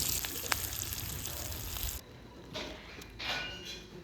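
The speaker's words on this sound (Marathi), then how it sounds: "या पॅनमध्ये तो परतून घेतला थोडंसं तेल टाकून" Stuffed green chillies sautéing in a little oil in a pan, a soft steady sizzle that drops away halfway, followed by a few quieter bursts of frying.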